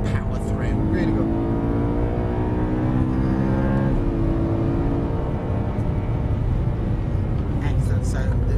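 A racing car laps Silverstone circuit during a training session, its engine droning loud and steady with rising and falling harmonics as it carries speed through corners, heard from the onboard position with an instructor's voice talking over it.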